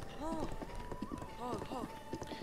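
Horse hooves galloping in the video game Breath of the Wild, a quick rhythmic thudding beat running under people talking and reacting excitedly.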